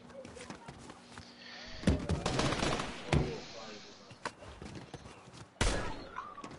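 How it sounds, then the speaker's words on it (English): Gunfire in a video game: several sharp, loud shots and bursts at irregular intervals over a busy background of game sounds. "Tell him to watch out for the gunshot."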